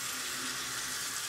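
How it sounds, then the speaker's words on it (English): A sink faucet runs steadily, warm water pouring for cleaning jewelry, a close, continuous broadband hiss with no talk over it. "I'm gonna turn on my water"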